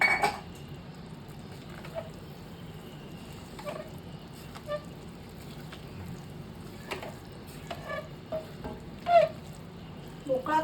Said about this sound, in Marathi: करून घेतलेला भात मी आता ह्या मिश्रणामध्ये टाकला आहे आणि मी आता छान परतून घेते